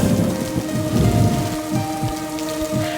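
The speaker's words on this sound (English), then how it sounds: "where we're outside in the rain" Steady rain patters on a rooftop in the horror video game Dementium: The Ward, a dense even hiss of drops with a low thundery rumble beneath.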